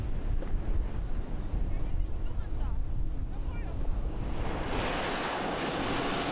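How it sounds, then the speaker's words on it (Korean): Winter sea surf rolls and washes onto the shore at Haeundae beach in Busan as a steady, broadband roar with wind noise. It grows into a brighter hiss near the end, with no voices. "오직 파도소리만 들리는 한적한 겨울 바다에 서보면 바다가 제대로"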